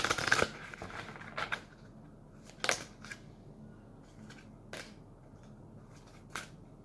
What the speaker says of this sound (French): Donc, j'ai tiré les cartes.